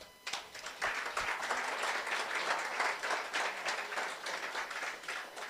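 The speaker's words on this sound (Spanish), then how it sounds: "Fuerte aplausos." A church audience at a pastoral luncheon breaks into applause, a dense, steady clapping that holds for about five seconds at moderate volume.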